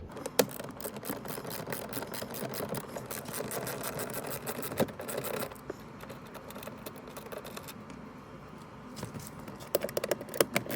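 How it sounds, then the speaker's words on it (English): Screws being removed from the cabin filter cover of an Alfa Romeo Giulia, with close, irregular small clicks, taps and tool rattles over a steady low background hum, no talking. "let's go ahead and remove the first screw right here"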